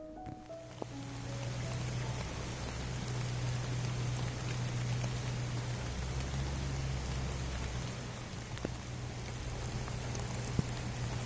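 Steady spring rain falls on an English day, a dense, even patter of drops on surfaces that holds for the whole stretch with a faint low hum underneath.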